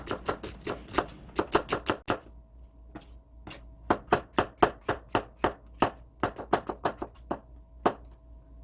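A knife chopping mushrooms and onions on a cutting board, rapid close taps in quick bursts with brief pauses, then a steadier run of firm chops.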